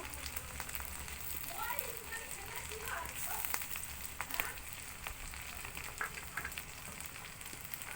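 Ground cumin paste sizzles and crackles in hot oil while chicken kosha is being cooked, a steady frying hiss with scattered pops and stirring scrapes, with a voice talking faintly over it.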